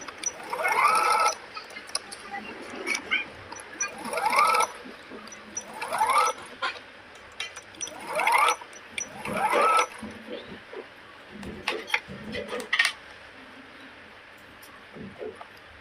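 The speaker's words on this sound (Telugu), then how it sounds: "సేమ్ ఇప్పుడు ఫ్రంట్ పార్ట్కి కూడా నెక్ స్టిచ్ చేస్తున్నాము" A sewing machine stitches the neck of a baby frock in short bursts, about six quick whirring runs separated by pauses with small clicks and fabric handling, close and moderately loud.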